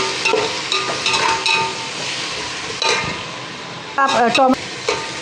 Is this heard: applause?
no